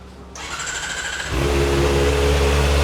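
A Kawasaki ZX-4RR motorcycle engine turns over and catches, then settles into a loud, close, throaty idle with a steady low rumble.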